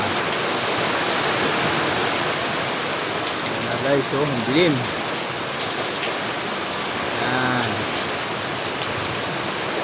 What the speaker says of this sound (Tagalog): Ito ang ano ng Bobby, bagyo. Malakas ang ulan